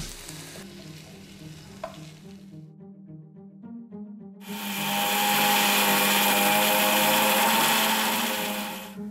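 Mixer grinder blending boiled, cooled chicken: a low churning motor run first, a brief stop, then a loud high-pitched whirring burst that holds steady to the end.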